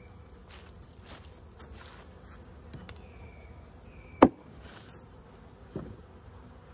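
Honey bees buzzing around a hive, a faint steady hum beneath scattered handling knocks and one sharp close tap.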